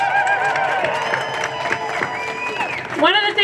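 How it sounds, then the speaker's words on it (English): A rally crowd applauds and cheers loudly for a few seconds, clapping blended with shouts and voices, with a sudden louder burst of cheering near the end. "Can you give them a round of applause"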